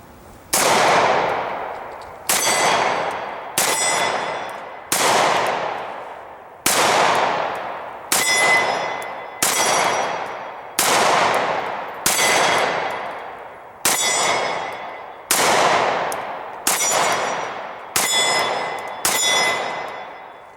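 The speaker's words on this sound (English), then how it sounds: "We shot the Stoeger 9mm, Stan, Dave, and I" A Stoeger Cougar 9mm pistol fires about a dozen single shots at an outdoor shooting range, each sharp loud crack followed by a ringing decay, spaced unevenly one to two seconds apart.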